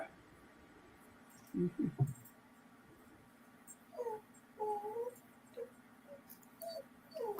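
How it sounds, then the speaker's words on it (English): A puppy whines and yips in short, high bursts, a few cries early and then a series of brief whimpers, close by in an otherwise quiet room. "Speaking of puppies, who's making the noise? Can you hear that?"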